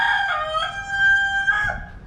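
A rooster in a chicken pen lets out one loud, close crow, a rising, drawn-out call that holds and then falls away, heard on its own without talk.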